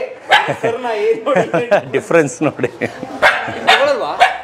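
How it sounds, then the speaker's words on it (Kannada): A dog at a breeder's kennel barks and yips amid steady, close talking, its calls partly masked by the voices. "ಅದು ನಮ್ಮ ನಾಯಿ"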